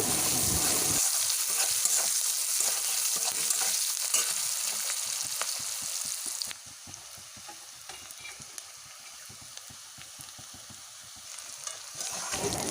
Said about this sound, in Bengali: এর মধ্যেই দিয়ে দেবো প্রায় এক মুঠোর মতন পেঁয়াজ কুচনো পেঁয়াজ কুচনোটা দিয়ে একটু ভালো করে